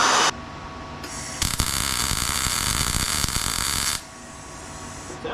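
Broadband crackling hiss of a welder laying a bead on a Chevelle frame during a frame kit install, steady for about two and a half seconds between short bursts, close and fairly loud with no talk.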